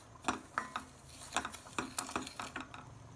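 A spoon scrapes and clanks against a kadhai as food is stirred and roasted, a series of sharp metallic clinks in an uneven rhythm, close and fairly quiet.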